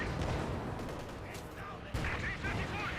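Machine gun fire and battle noise in the real-time strategy game Company of Heroes 2, a dense continuous clatter of gunfire with bursts of shots and explosions throughout.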